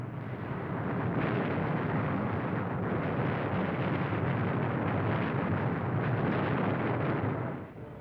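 Bombs and explosions during air attacks on supply ships, a continuous dense roar of blasts and rumbling that holds steady for about eight seconds before tapering off, heavy and muffled as if heard from a distance.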